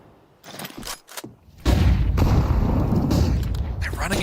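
Gunfire and grenade blasts ring out in a Counter-Strike esports match, with a few scattered thumps first, then a loud, sustained rumbling barrage of shots and explosions that fills the rest of the moment.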